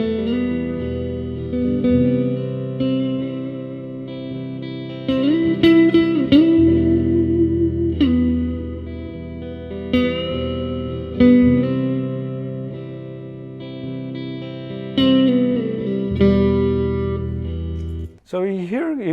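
Electric guitar plays a distorted, reverberant solo line mixing chord tones and extension tones, with sustained bent notes and phrases over a held backing chord, loud and close, with a brief voice cutting in at the end.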